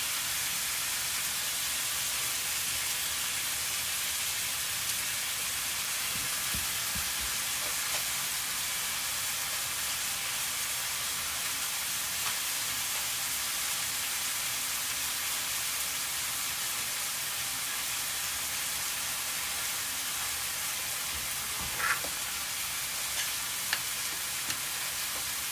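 Chicken sizzles in olive oil in a pan with a steady, hissing fry that holds even and close throughout, broken by a few faint clicks near the end.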